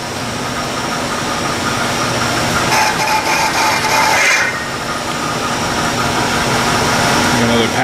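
Metal lathe turning a cast steam speeder wheel up to 18 inches across the flange, a steady loud mechanical hum and whir with a brief harsher cutting swell midway, and a voice heard at times.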